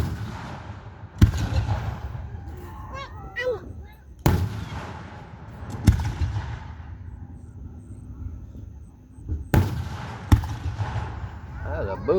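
Independence Day fireworks at a park show burst in five or six sharp, booming reports spaced a few seconds apart, each trailing off into low rumble, with a child and adults chatting close by.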